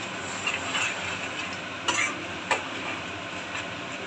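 Spinach and mutton keema with mutton stock stirred in a pan, a steady soft simmering hiss with a few faint scrapes and taps of the spoon, close but quiet.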